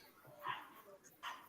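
Three dogs playing yip and bark in two short, faint bursts with soft whimpers between, heard from a distance amid low background noise.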